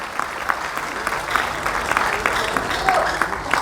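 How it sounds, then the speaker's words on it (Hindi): An audience at an Allahabad Medical Association event claps steadily and fairly loudly, a dense continuous patter of many hands. "इसलिए तालियों में कोई कंजूसी नहीं।"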